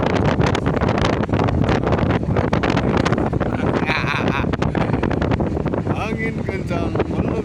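Strong wind blows steadily and loudly, roaring and buffeting the microphone throughout, with faint higher sounds briefly surfacing in the mix.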